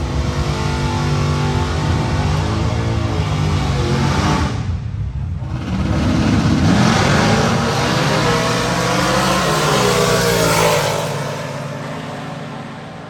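Drag racing cars at Holley LS Fest East 2023 roar loudly as they accelerate down the strip, engines revving hard, dipping briefly and then surging again in a long, continuous blast.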